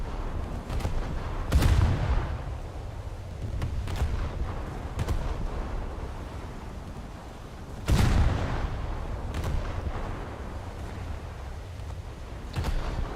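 Heavy naval guns from a warship in a naval combat game firing at an enemy Kako cruiser: two big booming salvos several seconds apart, each with a long rumbling tail, plus lighter distant reports over a steady low engine drone.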